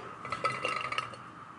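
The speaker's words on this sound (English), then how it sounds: "All I'm doing is throwing my berries in." A handful of frozen summer berries tumbles into a cooking pot, giving a short, soft rattle of light clinks and knocks close by, then fading to quiet room tone.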